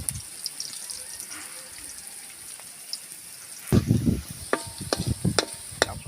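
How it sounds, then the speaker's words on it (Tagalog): Onion, black pepper and chili sautéing in a hot pan, a soft steady sizzle that turns into louder crackling and spattering bursts partway through, with occasional stirring clinks. "tapos natin igisa yung ating ingredients"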